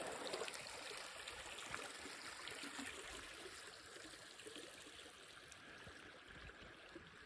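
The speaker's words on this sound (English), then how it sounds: "Pretty creek." A creek in Woodland Caribou wilderness flows with a steady, soft rushing and trickling, continuous and fairly faint, with no voices over it.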